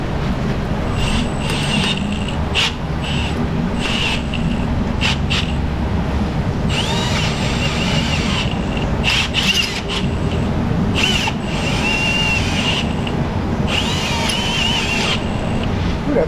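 A power tool drives an extractor bit onto a seized wheel stud nut, a steady loud grinding rasp with repeated high-pitched squealing bursts as the bit bites into the metal.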